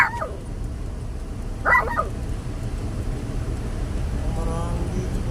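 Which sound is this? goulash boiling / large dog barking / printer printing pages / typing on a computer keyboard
large dog barking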